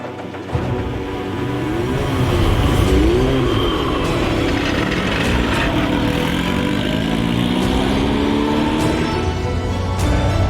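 A Formula 4 race car engine on a racetrack, loud and continuous, its pitch climbing and dropping through gear changes as the car accelerates and brakes close by.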